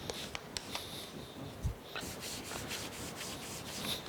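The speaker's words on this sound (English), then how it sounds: "Stone it here to remove any burrs." A sharpening stone rubbed across a metal straight edge casting to take off burrs, heard as faint, close scraping strokes with a few light taps against a quiet background.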